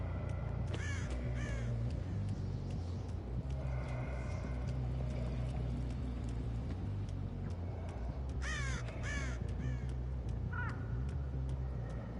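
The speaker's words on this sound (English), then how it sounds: "I hear the birds" Crows caw outdoors in several harsh bursts, near the start and again around the two-thirds mark, over a steady low rumble of background noise.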